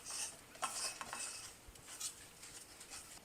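Onions tossed in flour seasoned with salt and garlic powder make soft, faint scraping and clinking sounds in a bowl, a few irregular rustling strokes close by.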